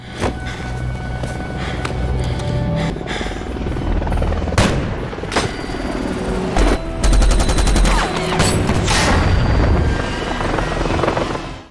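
Loud, continuous helicopter rotor noise mixed with sharp bursts of gunfire, including a rapid .50 caliber machine-gun volley, in a dense action-film soundscape.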